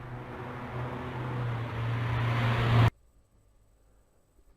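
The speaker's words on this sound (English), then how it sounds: "So here it is, the car passing sound, and we can hear it." Car passing sound effect from the Scratch sound library, a road-noise whoosh with a low engine hum swelling louder over about three seconds before stopping abruptly into near silence.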